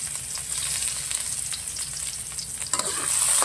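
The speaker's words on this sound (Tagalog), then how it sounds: "Lagyan ko siya ng mantika. Bali, igigisa ko lang muna siya. Unahin ko ang bawang," Garlic sautéing in hot cooking oil in a pan, a steady close hiss and crackle of frying with light stirring scrapes throughout, growing slightly louder near the end, no voices.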